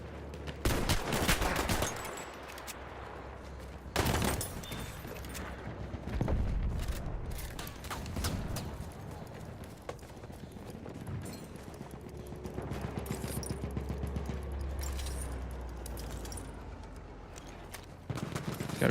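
Gunfire in the video game Battlefield 1, with repeated bursts of shots and booming impacts over a constant low rumble, some near and loud, others farther off.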